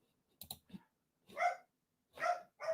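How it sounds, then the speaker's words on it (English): A Bichon Frise dog barks nearby in three loud, separate barks, each following the last after a short pause, with some quick clicking or tapping just before the first bark. "My dog's Bichon Freeze literally barks all day."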